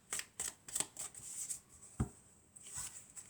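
Tarot deck being shuffled by hand in short quiet riffles and slides of card stock, close to the listener but soft, with no voice present.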